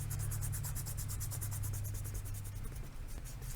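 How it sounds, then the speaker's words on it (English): An eraser rubs back and forth over pencil marks on a sketch card, a quick, steady scrubbing with regular strokes close by, under a constant low hum. "erase the pencil marks."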